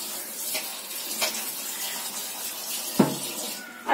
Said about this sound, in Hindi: तो मैं इन आलू को ना इनको धुल के और इनको फिर मैं पानी भर के रख लूंगी इनमें